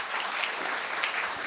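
Audience clapping at a talk on Indian knowledge systems, a brief, fairly quiet wash of many hands clapping steadily throughout.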